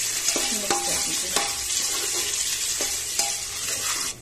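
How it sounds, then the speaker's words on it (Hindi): Onion and tomato fry for a Bengali mutton curry while a spoon stirs them, a bright, dense sizzle punctuated by several distinct scraping strokes, close and steady, cutting off abruptly at the end. "1 टमाटर जो मैंने लिया था वह मैं ऐड करूंगा, उसको भी अच्छे से मिक्स कर दीजिए"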